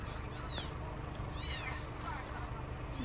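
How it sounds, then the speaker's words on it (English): Several very young, newborn kittens give thin, high mewing calls at the roadside in Bosnia while being fed milk, with repeated short cries near and far and people talking over them. "Just giving them some milk,"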